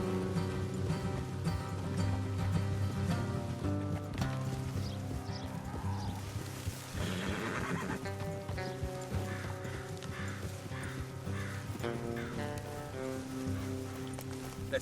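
Horses whinny and hooves clop steadily in Red Dead Redemption 2 beneath a dense layer of game music and ambience, the animal sounds partly buried in the mix.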